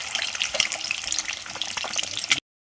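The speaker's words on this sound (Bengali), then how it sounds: "তো কড়াতে একটু তেল ছিল, আর তেল দিয়ে দিলাম। তো ডিমগুলো ভেজে নেব।" Eggs frying in oil in a wok crackle and sizzle steadily up close, with bright spitting pops and some stirring scrapes, then cut off abruptly.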